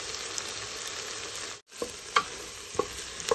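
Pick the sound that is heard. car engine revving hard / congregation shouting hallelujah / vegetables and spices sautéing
vegetables and spices sautéing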